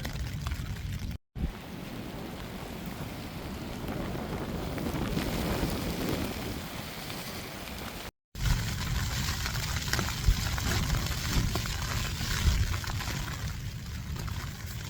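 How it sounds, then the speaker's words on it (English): Strong wind buffets a tent pitched side-on to the gusts while stealth camping on the Irish coast under a yellow rain warning, a steady roaring rush with rain-like patter and microphone wind noise, two brief dropouts. "Getting this wind just side on here, and has the tent bowing in like us"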